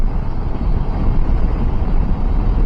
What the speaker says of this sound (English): there is some buffeting at the top of my helmet